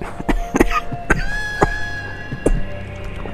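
A fit of coughing from a character in the video game El Shaddai, several sharp, rough bursts scattered over a few seconds, with a steady tonal game sound and background music running underneath.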